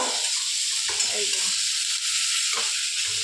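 A steady, loud sizzle of boiled, fried eggs cooking in a pan with onion, chilli, tomato, ginger and garlic for egg curry, with faint clinks and soft background movement throughout.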